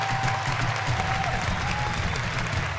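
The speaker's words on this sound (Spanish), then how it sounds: "Un aplauso, hombre." A studio audience at a TV talk show claps continuously and loudly, a dense wash of hands filling the whole stretch without letting up.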